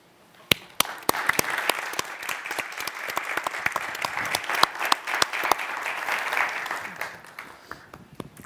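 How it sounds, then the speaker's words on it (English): Audience applause for the panelists at the close of a financing session at a Knowledge Week event, a dense steady patter of many hands clapping that builds, holds for several seconds, then thins out near the end. "a big applause to them, please."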